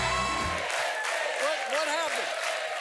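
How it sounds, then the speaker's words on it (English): A studio audience applauds and cheers for David Letterman's return to the stage, a steady wash of clapping with voices and whoops rising over it. "No stranger to an entrance with a warm welcome and booming applause"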